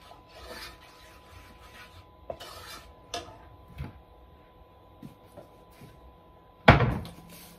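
Potatoes with tamarind are stirred in a pan for khatte aloo, giving scattered scraping and rasping strokes with light clinks of the utensil and one sharp, louder scrape near the end.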